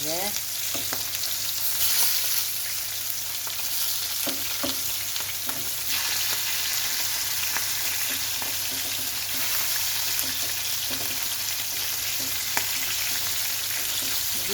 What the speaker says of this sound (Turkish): Şimdi ikinci yüzlerini kızartıyorum arkadaşlar